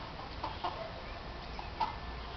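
Soft, scattered clucks from a few hens at a moderate distance over a quiet outdoor background.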